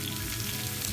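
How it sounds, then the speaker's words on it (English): Steady, close sizzling of two eggs frying in a hot pan, a constant crackling hiss throughout. "Crack 2 fresh eggs into the pan."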